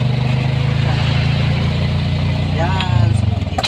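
A motorcycle engine idles with a steady, low, even hum close by, while people talk over it.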